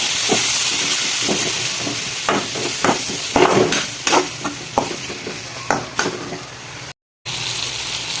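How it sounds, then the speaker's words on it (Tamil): Onions, tomatoes and green chillies sauté in a pan for restaurant-style chicken chukka, a steady sizzle broken by repeated scraping stirs of a spoon against the pan, close and fairly loud, with a brief dropout near the end. "வெங்காயம் தக்காளி எல்லாம் சேர்ந்து நல்லா வதங்கிச்சு"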